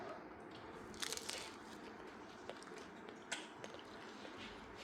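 Crisp crunching bites into a crunchy dosa, a few sharp crackles close to the microphone, over a quiet hissy background with no talking.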